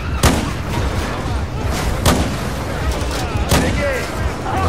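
Shotgun fire in Battlefield 4: three heavy, widely spaced blasts ring out over a constant din of battle noise and rumble, loud and close.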